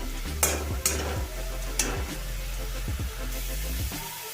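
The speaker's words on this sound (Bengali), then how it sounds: "এখন আমি ফ্লেমটা হাই করে দিয়েছি, আর এই জলটা শুকানো পর্যন্ত আমি এটাকে রান্না করব" Prawns cooking in a wok over a high flame while the released water boils off, giving a steady close sizzle with a low burner rumble and a few sharp scrapes and clinks of stirring.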